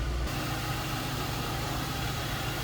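A 2002 Ford Thunderbird convertible idling, heard from behind the car, a steady low engine burble with even pulsing, close and uninterrupted with no voices.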